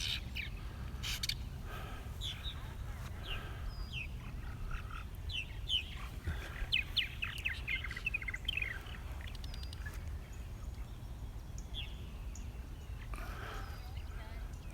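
Purple martins calling in the evening over a lawn by a creek, many scattered chirps and squawky calls coming and going at moderate distance above steady low outdoor rumble.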